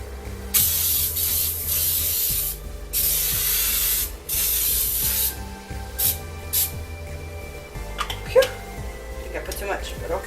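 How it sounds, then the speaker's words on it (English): Pam baking spray with flour hissing from an aerosol can onto a cake pan in bursts of a second or two, close and loud, with a dog whimpering and a voice talking in between. "let's put some spray. I'm using Pam baking made with flour"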